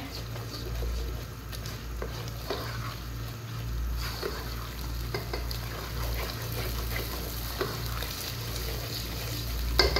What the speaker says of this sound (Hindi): इस तरह मिक्स करेंगे इसको, इसकी भुनाई करेंगे ताकि जो आलू का कच्चापन है वो खत्म हो जाए